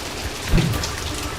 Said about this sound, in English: Rain continues this morning, but the fog will linger through lunchtime.